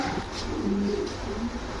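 A male Gaddino pigeon gives a low, brief coo amid steady background noise, faint and close, lasting under two seconds.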